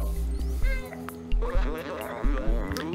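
A cat meows repeatedly in the video game Stray, with several drawn-out, wavering cries over a steady game soundtrack, and a voice is partly heard alongside.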